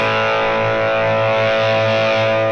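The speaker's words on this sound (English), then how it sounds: "we just get more distortion" Electric guitar run through a software Boost amp model in Ableton Live, heavily distorted and saturated, a sustained buzzing chord ringing steadily and loud for a few seconds with no voice.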